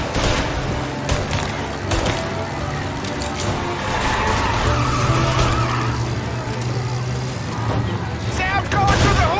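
Tires skid and a car engine roars through a chase after a booze truck in the Mafia video game, loud and continuous alongside game music and effects.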